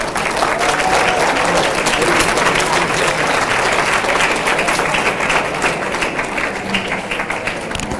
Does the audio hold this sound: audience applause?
yes